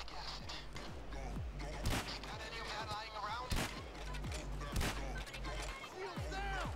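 Sniper rifle shots in Payday 2, a few sharp loud cracks spaced a couple of seconds apart, ringing out over busy game noise and ambient hum.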